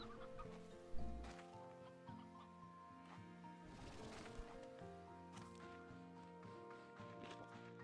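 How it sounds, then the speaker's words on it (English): Chickens cluck softly in Slime Rancher 2, with scattered clucks and short calls over a busy, layered background of game music and ambience. "Look how much chicken's around here."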